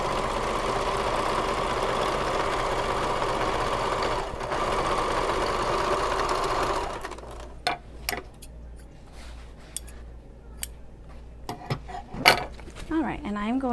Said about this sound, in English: sew this side of the bottom, the base to this bottom of the pocket.